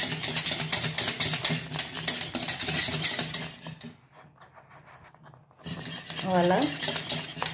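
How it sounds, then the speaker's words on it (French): A spoon stirring and scraping a drying mixture in a pan on the stove for a galette des rois, close and busy clinks and scrapes, pausing briefly near the middle before resuming, with one short spoken word. "Je mélange jusqu'à ce que ça sèche aussi."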